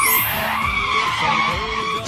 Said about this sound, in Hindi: अबे गाड़ी कैसे रुक गई?